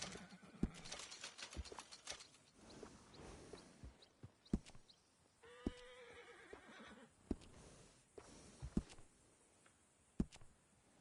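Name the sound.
horse in video game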